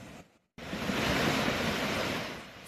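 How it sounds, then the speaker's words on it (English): Feet of floodwater rush through the village of Ruidoso after heavy rains, a loud, steady roaring wash that starts abruptly after a brief gap and continues without any talk. "Feet of water rushing through the village of Ruidoso after heavy rains"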